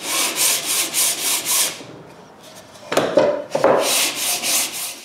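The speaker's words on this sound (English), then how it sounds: "Now I do the real finish sanding." Repeated back-and-forth sanding strokes on small mahogany and maple wooden boxes during finish sanding, a steady rhythmic rasp that pauses midway, picks up with a few knocks, then resumes its even strokes, close and fairly loud.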